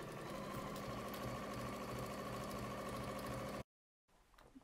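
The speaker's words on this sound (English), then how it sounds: "Reverse stitch at the start and reverse stitch at the end." A sewing machine reverse stitches a seam, running steadily with a fast mechanical rattle, then stops abruptly; after a short silence, faint handling noises follow.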